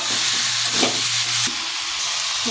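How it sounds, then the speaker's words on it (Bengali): Chicken pieces fry in oil-rich spice masala for a curry with elephant foot yam, a loud close sizzle with stirring scrapes and a low hum underneath, swelling when the meat is turned. "এবারে মাংস দেব। ভালো করে কষিয়ে নেব।"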